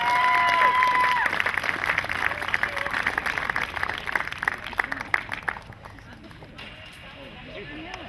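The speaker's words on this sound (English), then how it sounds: "Big round of applause one more time for Julie Kent." Audience applause for Julie Kent at an outdoor pumpkin event, a steady wash of clapping and crowd noise that starts loud and gradually thins, with scattered voices mixed in.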